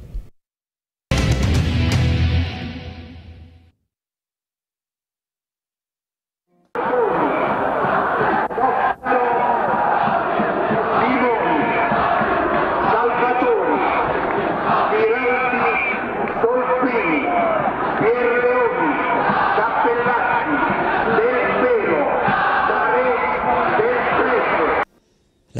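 Football fans of Teramo chanting in a stadium, a dense crowd roar with rhythmic rising and falling chants filling most of the stretch after a short burst and a silent gap.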